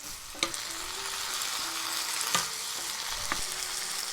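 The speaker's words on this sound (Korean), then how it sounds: "살짝 볶아줍니다" Anchovies and shishito peppers stir-fry in a pan with a steady, loud sizzle, and a few distinct scrapes and clinks of a utensil against the pan punctuate it, all without talking.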